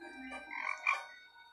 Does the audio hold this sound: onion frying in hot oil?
no